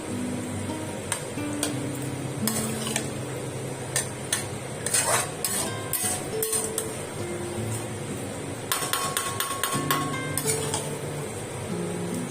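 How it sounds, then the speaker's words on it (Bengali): Bombay duck (lote) fish is sautéed over a high gas flame, with a sizzle underneath and repeated scraping and clinking of a utensil against the pan, close and fairly loud, without talk. "এইভাবে মাছটা একটু কষিয়ে নিচ্ছি গ্যাসটা একটু জোরে দিয়ে"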